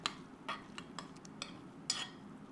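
Veg masala biryani being stirred in a pot, a handful of light metallic scrapes and clinks from a spoon against the vessel, spaced irregularly and heard up close.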